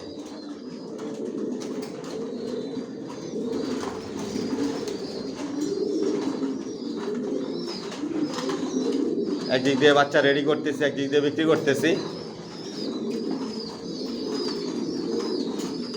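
Racer pigeons in a multi-storey breeding loft coo in a constant crowded murmur, with a burst of wing flapping midway, while someone talks over them throughout.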